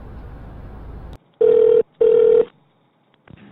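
Two steady ringback tones, each about half a second long, sound in a phone call to the Korea Expressway Corporation call center. They follow a brief stretch of muffled background noise and are separated by a short gap, with no talking.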